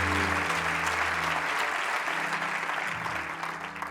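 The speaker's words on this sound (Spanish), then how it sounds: "Vamos a darle ese aplauso al Rey de Reyes." A church congregation applauds in a dense, steady wash of clapping that runs the whole stretch, loud and close, with faint sustained tones beneath and little speech.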